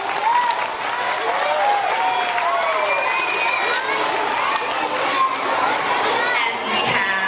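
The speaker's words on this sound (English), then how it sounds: "Let's give Jeff a big round of applause." A crowd gives a sustained round of applause for Jeff Knighton from the city of Roswell at Sweet Apple. Children's voices and chatter mix in throughout.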